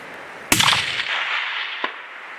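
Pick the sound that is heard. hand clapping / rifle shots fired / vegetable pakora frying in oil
rifle shots fired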